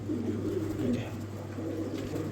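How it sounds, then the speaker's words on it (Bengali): An American Domestic High Flyer pigeon coos in low, steady murmurs, close and continuous over a constant hum. "এই যে দেখেন কবুতর দেখলেই শান্তি, 3500 টাকা দাম আমেরিকান ডোমেস্টিক হাই ফ্লেয়ার"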